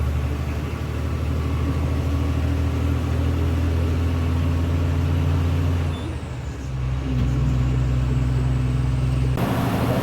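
A truck drives along a highway in Telangana, its engine a steady low drone with road rumble, briefly dipping midway before resuming its constant, close, loud hum.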